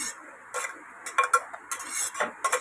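A spoon scrapes and clinks against a metal pot while prawn masala is stirred, giving irregular close bursts of clatter separated by short quiet gaps, with no talking.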